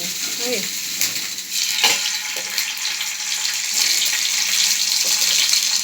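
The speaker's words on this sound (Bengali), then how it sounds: "পনিরটাকে তেলে ভাজতে হবে" Paneer fries in oil, a steady, bright sizzle with crackles and occasional scraping stirs, close and continuous, growing a little louder toward the end.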